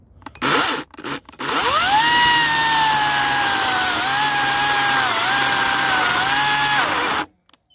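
A Dnipro-M cordless chainsaw fitted with a new Oregon chain starts after a couple of brief clunks, then runs loud and close with a steady high whine that dips and recovers slightly before cutting off.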